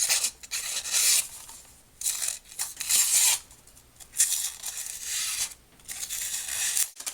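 A Spyderco Szabo knife, not very sharp out of the box, slicing through material in repeated rasping strokes, each cut a short scraping burst with brief gaps between, close and fairly loud, with no voices.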